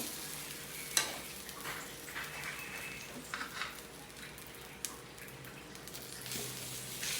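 Fried rice being stir-fried in a pan, a low, soft sizzle broken up by scraping and clinking from a spatula, with a sharp tap near the start and a few more knocks later, and no voices.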